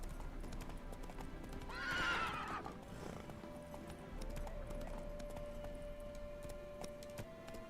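Clip-clop hoofbeats of the horse Roach galloping in The Witcher video game, a steady rhythmic run with a loud whinny near the start, backed by game ambience and a sustained tonal hum.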